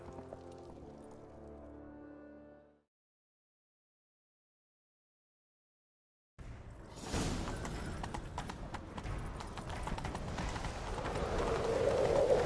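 Rapid galloping horse hoofbeats with clip-clop rhythm over a dense game soundscape in The Witcher 3, after a stretch of music and a brief silence.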